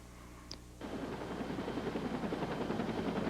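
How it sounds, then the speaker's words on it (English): A Flight for Life medical helicopter rotor thuds in a fast, steady rhythm after a brief tone, loud and close, carrying alone with no talk. "A Flight for Life helicopter transported Michael more than 100 miles to Penrose Hospital"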